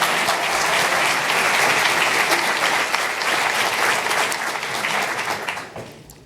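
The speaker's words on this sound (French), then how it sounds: "je veux quand même qu'on l'applaudisse" A graduation ceremony audience applauds in a large hall, dense sustained clapping from many hands that holds loud and steady before fading out over the last second.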